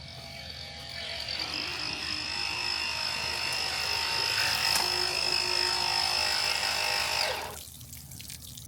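A cordless Water Tech Precision V10 pool vacuum runs with a steady motor whine and underwater suction hiss, sustained for about seven seconds before cutting off abruptly and leaving quiet background.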